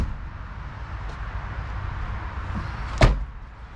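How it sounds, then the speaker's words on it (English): A door on a 1993 Mercedes-Benz 190E 2.6, a W201 model, shuts with a single solid, close thud near the end, after a few seconds of quiet background hum. "the way the doors close,"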